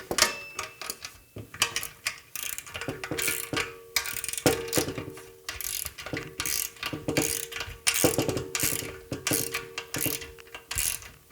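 A ratchet wrench turns bolts during a transmission installation, giving rapid, close clicking bursts in repeated strokes with brief pauses between pulls, set against faint mechanical clatter.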